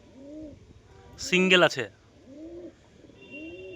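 Domestic pigeons coo in a home loft, soft repeated low coos in the background while someone talks over them, with a brief louder burst of noise in the middle.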